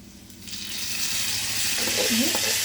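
Ivy gourd curry with peanuts and coconut fries in a pan with a steady broadband sizzle, close and continuous, while a utensil stirs it through; a voice speaks briefly near the end.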